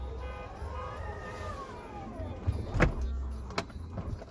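A Tesla Model X's powered door closes with a smooth rising motor whine, followed by a couple of soft thuds and a latch click, faint and close with no talking.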